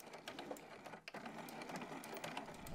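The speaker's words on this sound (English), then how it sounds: "now I'm just going to sew straight across that cut edge with a 1/2 inch seam allowance" A sewing machine stitches straight across the cut edge of purse liner fabric, a continuous close mechanical whir with one brief pause near the middle.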